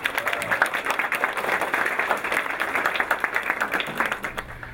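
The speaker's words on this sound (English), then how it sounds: "let's give them another round of applause" A banquet audience applauds students with full, steady clapping that stays strong for several seconds and begins to thin out toward the end.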